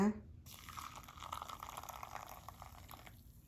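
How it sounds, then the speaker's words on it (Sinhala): Hot water pours onto coffee in a cup as a soft, steady liquid stream lasting about three seconds, following a brief clatter at the start. "ඒකට මම දාගන්නවා උණු වතුර"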